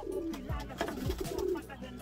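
A female pigeon in its cage gives soft, low, repeated coos close by, over a steady background murmur with no speech.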